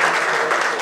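An audience at the Miss Angola 2017 pageant applauds in a loud, dense burst, less than a second long.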